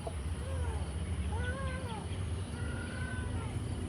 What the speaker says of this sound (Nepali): जे भन्नु त्यही मान्छ बिरालोले नि भन्दै